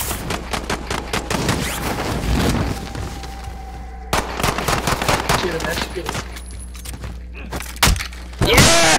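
Dense gunfire in a shooting video game: loud, rapid bursts and single shots crackle for several seconds, pause, then resume, with a heavy thud near the end.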